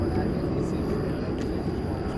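A jet airliner going around at DFW Airport at night, its engines giving a steady broadband roar with a faint high whine, continuous throughout, with talk heard alongside.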